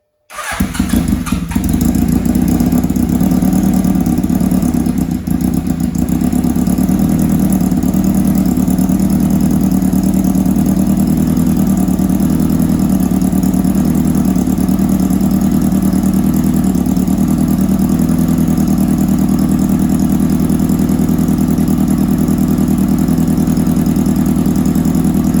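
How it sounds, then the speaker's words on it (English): A barn-find Honda CB900F motorcycle with freshly worked carburetors cranks, catches within a second and settles into a loud, steady idle close by, holding evenly for over twenty seconds. "Engine start switch."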